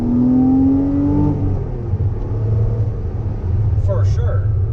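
A 2012 Porsche Cayman R engine accelerates from inside the cabin, a loud droning rise in pitch that settles into a steady rumble, with a voice heard briefly near the end.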